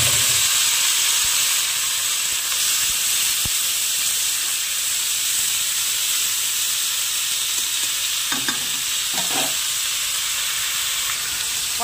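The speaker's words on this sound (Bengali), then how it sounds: "লতি কেটে ধুয়ে রাখাগুলো আর এই যে লঙ্কা, কাঁচা লঙ্কা চিড়ে আর পেঁয়াজটা একসঙ্গে ভেজে নেব" Pointed gourd vines frying in oil with slit green chillies and onion, a steady close sizzle and hiss running throughout with a few faint stirring clinks; no talking.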